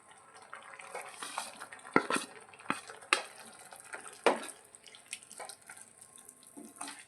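Spinach for palak paneer is stirred in a pan with a spoon, giving soft scraping and wet clinks at an irregular pace, quiet and close.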